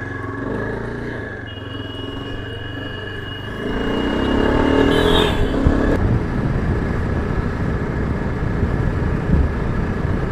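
Yezdi Adventure motorcycle ridden on the road in cold, misty weather: a steady engine drone and rumble, rising in loudness midway as the bike gets going, with continuous wind and road noise and no talk.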